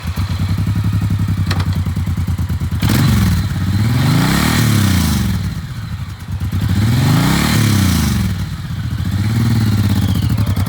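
A used 2019 Suzuki Boulevard M109R B.O.S.S. with a big-bore V-twin engine revs loudly and close up, its throttle rising and falling in three repeated swells over a steady deep rumble, with no talking.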